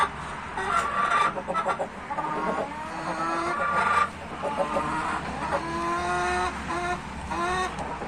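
Hens cluck in short bursts, close by, with a rooster's drawn-out calls rising among them and a faint hum behind.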